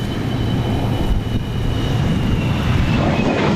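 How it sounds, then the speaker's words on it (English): An F-104 Starfighter jet flying at the Royal International Air Tattoo air show, a steady, loud broadband roar holding throughout without a break. "A very nicely painted up F-104 Starfighter"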